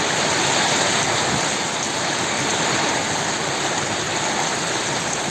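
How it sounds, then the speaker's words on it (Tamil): Heavy rain pours down steadily, a dense continuous hiss and patter close by with no break and no voices. "இப்போ இது மழை பெய்யுது"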